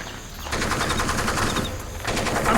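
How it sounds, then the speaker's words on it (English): Sustained machine gun fire in Splinter Cell: Pandora Tomorrow on Xbox, a dense rapid rattle of shots that continues almost without pause, loud and close. "I've got to listen to the constant gunfire and your constant complaining."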